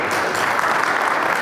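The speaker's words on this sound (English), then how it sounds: "Let's start today off with a round of applause to Paz" Steady, loud applause fills a conference hall as an audience welcomes a speaker giving a talk on weather balloon radiosondes, dense clapping that holds evenly throughout.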